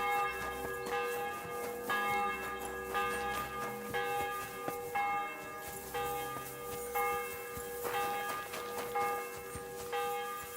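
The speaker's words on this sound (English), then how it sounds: "I think there's the ringing the alarm bells because someone's seen Henry turn up" Alarm bells ring in a medieval town in the game Kingdom Come Deliverance 2, with repeated clanging strikes at a steady rhythm and long ringing tails, heard at moderate volume as if from a short distance.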